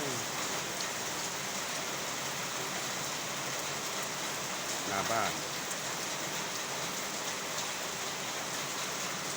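Heavy rain pours in front of a house in rural Thailand as a dense, constant hiss. A brief voice speaks once partway through the downpour.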